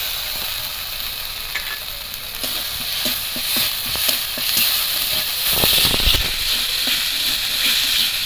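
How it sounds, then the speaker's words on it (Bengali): Ginger-garlic paste sizzles in a frying pan over fried onions for a pomfret fish curry, a steady loud hiss broken by repeated scraping stirs and clicks, with no talk. "আদা রসুন আমি একসঙ্গে বেটে রেখেছিলাম দিয়ে দিচ্ছি।"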